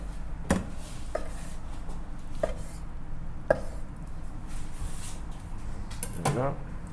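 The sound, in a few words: cutting octopus (tako) with a knife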